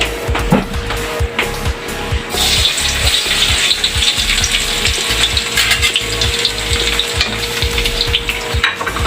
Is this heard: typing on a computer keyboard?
no